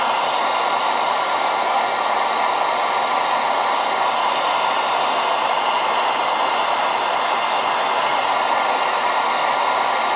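A heat gun blows steadily at close range while shrinking heat-shrink tubing over the cable of a high-voltage discharge probe, a loud constant airy roar with no change over ten seconds and no talking.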